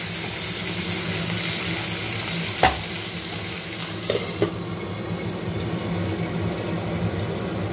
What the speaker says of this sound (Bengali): আমি আগে প্রথমে একটু আলুগুলো ভেজে নিচ্ছি